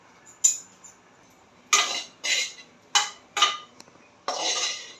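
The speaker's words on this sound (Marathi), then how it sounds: "खोबरं थोडंसं परतून घेते." A metal spoon stirs and scrapes grated fresh coconut roasting in ghee in a pan, giving several sharp clinks and short scraping bursts separated by pauses, close and fairly quiet.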